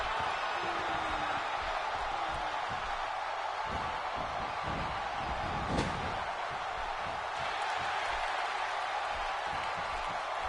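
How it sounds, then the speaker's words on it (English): A wrestling arena crowd cheers in a continuous, loud roar that never lets up, with a sharp slam cutting through near the middle. "by the sound of this crowd, I think they're getting what they wanted"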